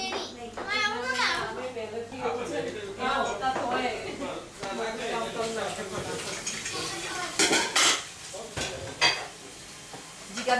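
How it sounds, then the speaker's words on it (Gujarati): Dishes, pots and utensils are scrubbed and washed, with scattered metallic clinks and scraping under frequent nearby talk, including children's voices. "વાસણ ઘસી રહ્યા છે"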